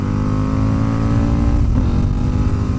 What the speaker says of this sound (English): People want to hear their exhaust.